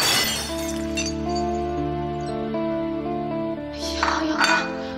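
A ceramic plate shatters in a home kitchen, a short burst of breaking and clinking pieces near the end, over steady background music.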